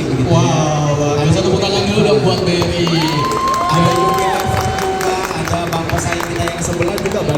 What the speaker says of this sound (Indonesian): satu tepuk tangan dulu dong buat BRI